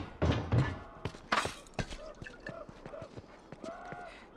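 Clicker infected creatures from The Last of Us video game: a string of sharp clicks and short throaty croaks repeating through the clip, with thuds near the start and a voice in the mix.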